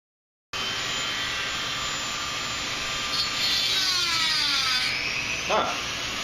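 A Dremel cutting a metal lowering spring coil from a Mazda MX-6, a loud continuous high whine that wavers as the cutting wheel bites, with voices faintly underneath.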